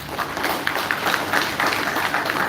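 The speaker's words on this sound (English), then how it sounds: "You have to, please, a round of applause for that." Audience applause at a launch event for a free water project, a steady, dense wash of clapping heard throughout at moderate loudness.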